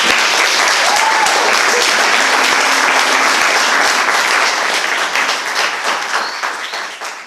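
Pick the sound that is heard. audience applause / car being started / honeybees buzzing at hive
audience applause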